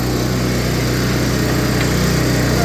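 An old MTD 24-inch snowblower with a 5HP engine runs steadily just after starting, a loud close chugging putter with an even rapid firing rhythm and no voices.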